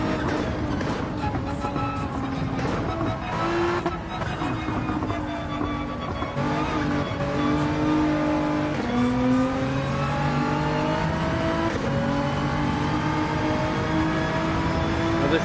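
A Nissan GT-R race car in Gran Turismo revving hard, its engine note climbing and dropping through gear changes in a continuous loud drone.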